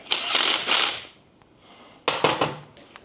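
A ratchet clicks quickly as it snugs up a pinion bolt during a Stage 2 install on a 2024 model, two bursts of rapid, close metallic ratcheting separated by a brief near-silent pause.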